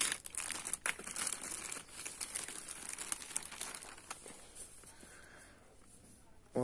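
JBL Flip 5 Tomorrowland Edition speaker packaging is cut open, with close, quiet crinkling and rustling of the packaging that fades toward the end.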